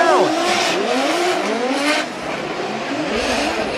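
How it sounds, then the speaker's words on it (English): Drift race cars at a Formula Drift Japan round, including a GR Corolla chasing closely, scream past with revving engines and squealing tires, loud and near, with swooping pitch as they slide and one car taps the wall. "Yamashita riding the wall, a little bit of a tap there by Matsuyama in the chase position."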